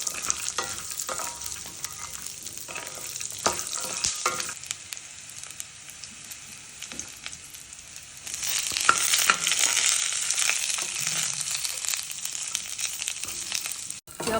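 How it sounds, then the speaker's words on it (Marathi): Dry fruits roasting in a generous amount of ghee in a pan for ladoo, with a steady soft sizzle and occasional stirring scrapes that grow louder and busier partway through. "त्याच्यात मी हे ड्रायफ्रूट सगळे ना छान भाजून घेते. थोडे तांबूस भाजायचे"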